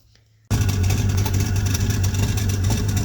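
Engine of a turbo Plymouth car with a freshly fitted carburetor starts up after a brief silence and runs steadily with a loud, close, continuous low rumble and idle hum.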